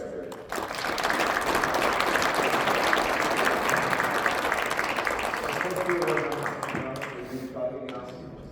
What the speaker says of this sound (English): Let's give a round of applause to our guys up here.